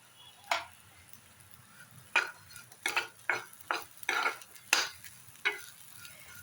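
Rice and cashews roasting in ghee for kheer, with a faint low sizzle under a series of about ten distinct scraping stirs of a spoon against the pan, irregularly spaced.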